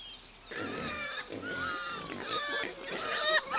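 Wild boars at a feeding place grunt and give high, squealing oinks in several close bursts over a few seconds.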